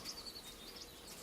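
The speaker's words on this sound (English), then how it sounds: "Probably because it's the sound of birds." Birds chirp in the video game The Wanderer: Frankenstein's Creature, with faint, thin tweets scattered over a soft steady ambient bed near a cottage, quiet and distant throughout.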